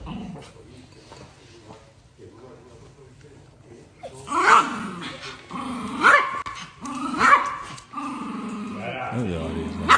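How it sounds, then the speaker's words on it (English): Small dogs growl and bark in several sharp bursts, with whimpering between them, heard over low background talk and hum. "Those dogs scare me. Those little dogs."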